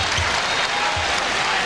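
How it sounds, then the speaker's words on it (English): A basketball arena crowd at a 2000 Georgetown–Rutgers men's game applauds a nice split between defenders, a steady dense wash of clapping throughout with no talk. "And the crowd appreciated it."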